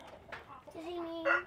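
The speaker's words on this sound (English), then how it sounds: "that's the rooster." A rooster makes a few soft, clucking calls inside a coop, short and close, ending on a slightly louder, rising cluck.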